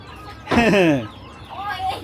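A hen found on a rooftop gives a loud, close squawking cluck, then a softer call follows a moment later.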